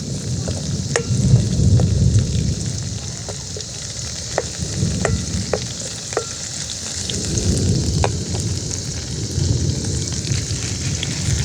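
Onions and garlic frying in a pan for curry leaf thokku, a steady loud sizzle with light stirring taps and scrapes throughout, and a low rumble underneath.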